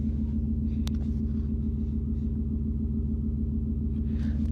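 A Ford F150 with a custom exhaust idles, heard from inside the cabin as a muffled, steady low rumble with an even throb and a faint click early on.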